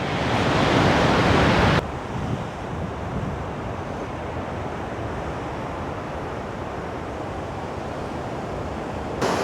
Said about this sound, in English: feel the roar of that and the thunder of those waves